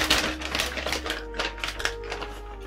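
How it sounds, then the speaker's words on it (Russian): The plastic detergent drawer of a washing machine slides open with a quick series of light, quiet clicks and rattles. "открываем отсек для порошка"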